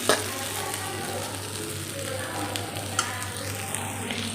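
Garlic, dry chilies, cumin and mustard seeds frying in hot oil for a bhindi sabzi, giving a steady, close sizzle with faint stirring clicks and a constant low hum underneath, no talking.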